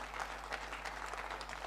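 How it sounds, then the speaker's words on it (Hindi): Audience applause for children at an Urdu poetry recitation gathering, a brief, fairly quiet wash of clapping under a steady low hum. "एक बार जोरदार तालियां इन बच्चों के लिए"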